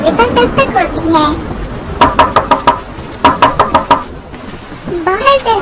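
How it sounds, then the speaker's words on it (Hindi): Knocking on a house door during rain in a Hindi cartoon, two quick bursts of four to five sharp raps each, loud and close, between and under animated voices speaking. "इतने में बाहर दरवाजे पर दस्तक होती है।"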